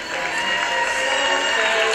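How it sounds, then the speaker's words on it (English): A crowd at the Miss Grand International 2016 pageant applauding and cheering, a dense continuous roar of clapping and voices, loud and sustained. "Please, ladies and gentlemen, give her a round of applause."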